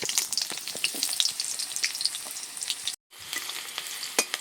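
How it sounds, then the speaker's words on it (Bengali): Dried red chillies and chopped onion frying in hot oil, giving a dense, close, crackling sizzle that runs almost without a break and drops out for a moment near the end. "তেলে একটু শুকনো লঙ্কা দিয়ে দিচ্ছি, 3-4টে দিলাম। একটু পেঁয়াজ কুচি,"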